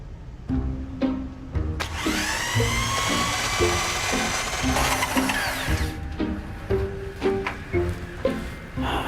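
A power drill whirs in bursts with rising and falling pitch, with rattling, scraping mechanical noise from a drain snake cable turning in a blocked toilet waste pipe.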